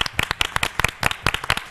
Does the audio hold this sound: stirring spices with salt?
no